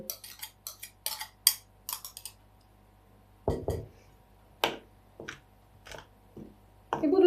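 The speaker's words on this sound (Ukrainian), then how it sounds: "Зараз з дріжджами перемішаю всередині, тут, поки тістечко ріденьке, отак перемішую" A spoon stirs runny yeast dough for pampushky buns in a bowl, a close, uneven string of light clinks and scrapes with brief pauses.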